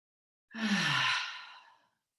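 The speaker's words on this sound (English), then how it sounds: "we're just gonna take a few clearing breaths here" A single clearing breath during yoga, a long audible exhale like a sigh, close and soft, lasting over a second before fading into silence.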